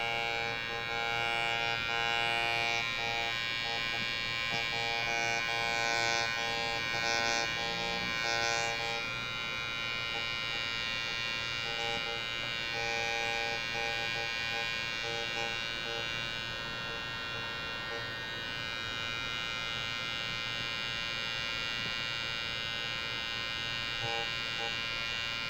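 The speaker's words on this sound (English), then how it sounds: "With this micro pen, I only want to do a couple passes." A cordless microneedling pen buzzing steadily during a facial skin treatment, a continuous electric hum with a faint whine that fills the whole stretch and eases slightly toward the end.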